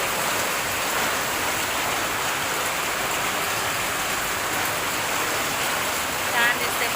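Heavy monsoon rain pours down around a rooftop terrace in Vasind, with a dense, steady, loud hiss that never lets up and has no pauses.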